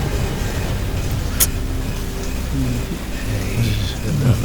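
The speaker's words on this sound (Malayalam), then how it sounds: "മഴ തോരുന്ന ലക്ഷണമില്ല." Heavy rain pours during a scene in a Malayalam thriller film, a steady broadband wash of falling water with faint voices and a brief sharp knock partway through.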